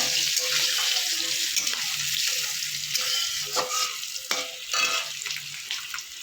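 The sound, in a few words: frying spice tempering with asafoetida and green chillies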